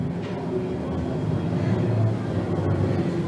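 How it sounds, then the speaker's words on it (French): A steady low mechanical drone of helicopter engines hangs overhead at a military parade, continuous and moderately loud, with faint background activity. "le bruit des moteurs des hélicoptères"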